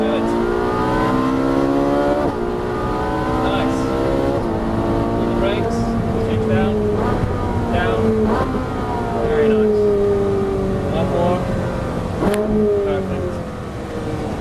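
A car engine on a race track runs loud and close, holding steady throttle and then rising through revs as it accelerates, while an instructor's voice talks over it.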